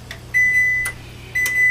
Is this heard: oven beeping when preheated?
yes